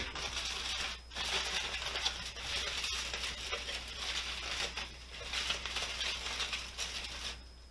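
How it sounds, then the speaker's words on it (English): Aluminium foil being pressed back over a baking dish of macaroni and cheese, continuous close crinkling and rustling with a few sharper crackles throughout, no talking. "put the foil back on."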